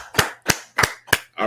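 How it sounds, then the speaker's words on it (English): Four sharp, loud, evenly spaced claps from a group in unison, close by, followed by the start of a spoken word. "Let's clap it up."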